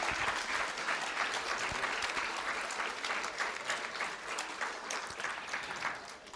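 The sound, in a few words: audience applause at a school board meeting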